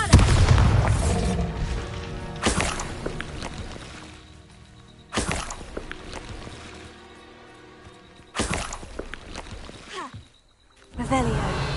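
Bombarda spell blasts in Hogwarts Legacy, four sharp booms spaced a few seconds apart, each decaying into a ringing tail, with a short spoken incantation near the start.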